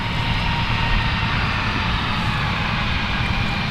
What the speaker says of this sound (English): Looks like we got an E-175 about to depart.